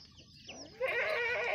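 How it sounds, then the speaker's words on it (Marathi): Chickens on a farm with goats cluck close by in a short, busy burst that swells after a quiet start. "कोंबड्या सुद्धा आहेत।"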